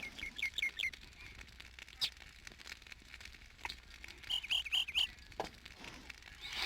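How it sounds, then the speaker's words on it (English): Bird in the video game Lord of the Rings Online giving quick bursts of high chirps in short runs, close and fairly clear, separated by gaps with faint rustling and clicks and no talk. "Yep, there's my bird."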